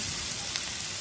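Pieces of fish fry in oil over a low gas flame, giving a close, continuous sizzle and crackle that holds steady throughout.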